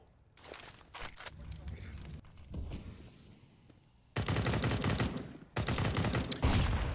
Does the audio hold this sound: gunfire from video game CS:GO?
yes